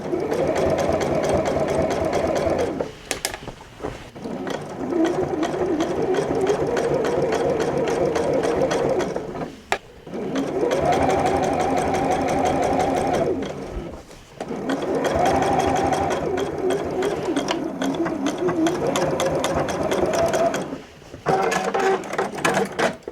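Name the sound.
Juki sewing machine stitching denim jeans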